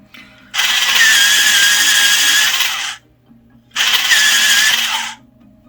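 AFMAT battery-operated pencil sharpener grinding a pencil in two close, loud bursts of buzzing whir, each lasting a couple of seconds, separated by a short pause.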